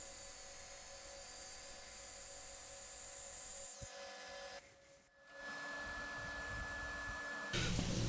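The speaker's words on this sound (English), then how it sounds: "there I am finishing off with the power sanding" A power sander whines steadily against a wooden vase on a lathe, a continuous high buzzing that drops out briefly midway and then resumes, close and even.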